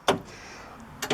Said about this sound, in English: we can open and close this door now